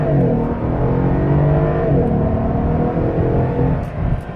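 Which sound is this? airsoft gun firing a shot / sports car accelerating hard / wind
sports car accelerating hard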